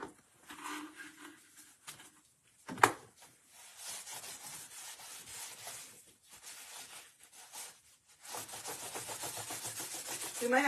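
A baby wipe rubbing over a craft piece makes soft, scratchy strokes in a quiet room, faint and close, with a few pauses and a denser stretch of rubbing near the end.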